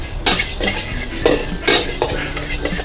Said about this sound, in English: You have to roast this Mung Dhal, this coconut and this sesame seeds.